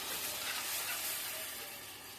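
Water poured into a pan of onions and masala cooking for a Bengali fish curry, giving a loud, steady broadband sizzle and hiss close up that eases slightly toward the end, with no talk.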